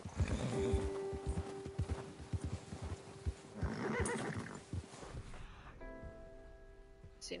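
A horse in Red Dead Redemption 2 gives loud whinnying neighs over clip-clopping hooves and rustling movement, then a quieter stretch with a sustained tonal hum.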